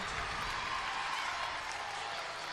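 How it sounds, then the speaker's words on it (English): A crowd at a college gymnastics meet, ASU at Minnesota, cheers and applauds after a stuck dismount, a loud, steady, dense roar of clapping and voices filling the whole clip. "The crowd is on their feet."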